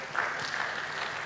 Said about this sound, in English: So I think you clap for Makerere University